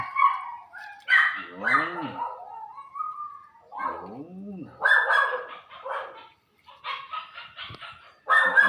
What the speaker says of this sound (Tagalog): Nagwawala na po ang mga aso sa kabila.